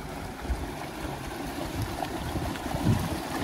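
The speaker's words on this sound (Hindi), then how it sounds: "पानी यहाँ से गिर रहा है और अंदर चक्की चल रही है" Stream water falls to drive a traditional water-powered mill with a turbine in Spiti Valley, making a steady rushing roar. The low rumble of water is continuous and close, with no talking.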